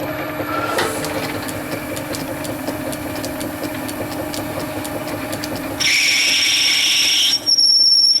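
Metal lathe turning a bushing in a workshop, a steady mechanical hum with a brighter whine rising near the end as the cut changes, close and without talk.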